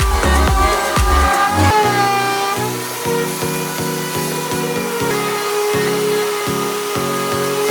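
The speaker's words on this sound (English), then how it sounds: "I went over the whole project with my orbital sander and 120 grit sandpaper" Steady orbital sander whirring on wood with 120-grit sandpaper, with rhythmic pulses as the tool passes back and forth, fairly close and loud, without talk.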